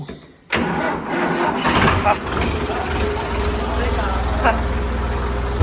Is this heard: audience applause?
no